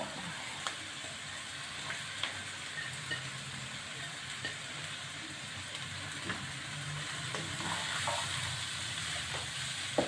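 Chopped cabbage and carrots sizzle steadily in a hot pan for a samosa filling, a continuous, moderately loud frying hiss with a few faint clicks and no talking.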